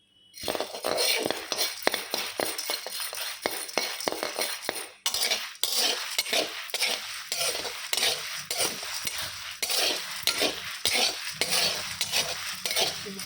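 Black pepper and spices roast in a pan while a utensil stirs and scrapes in quick repeated strokes, with a brief pause near five seconds, close and fairly loud.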